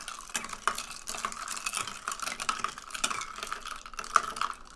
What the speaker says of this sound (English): you're supposed to stir while you pour